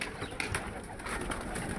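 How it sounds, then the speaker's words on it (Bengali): About ten pairs of local deshi pigeons coo in a loft of newly bought nest boxes, a steady cooing against a broad, hissy background without speech. "এই দেখেন এগুলো সব দেশি কবুতর আমার, সব জোড়া সহ এখানে প্রায় 10 জোড়া কবুতর আছে"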